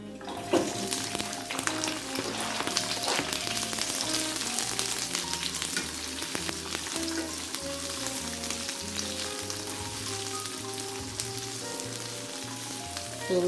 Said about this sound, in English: I like to hear when it's sizzling.